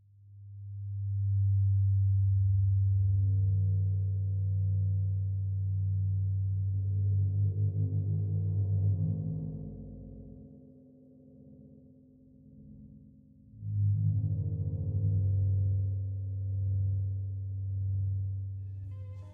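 Friction mallet drawn across a 20-inch wind gong, giving a low, steady sustained hum that swells, thins out and fades around the middle, then returns strongly and holds to the end, with no voices.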